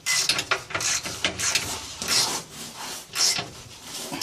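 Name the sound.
rusty exhaust nut being worked off stud threads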